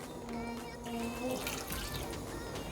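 Water pours into a cooking pot holding marinated chicken pieces, a steady gurgling stream at close range.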